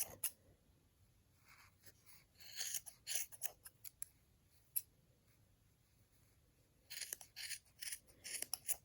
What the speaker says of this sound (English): insert your scissors like this, and we're going to cut